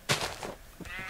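A sheep in a blocky farming video game gives a short, close bleat, one quick wavering cry lasting about a second, with no other sounds around it.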